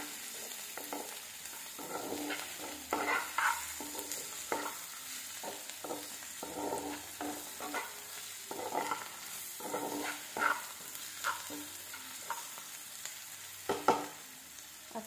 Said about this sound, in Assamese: নহৰুখিনিও মানে অকণমান ৰঙা হোৱালৈকে ভাজি ল'ব লাগিব পিঁয়াজৰ লগতে।